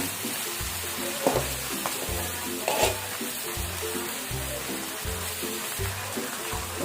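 Thoothuvalai (Solanum trilobatum) leaves sauté in a hot pan, giving a continuous loud sizzle with a steady rhythm of stirring and scraping strokes close up and no talking.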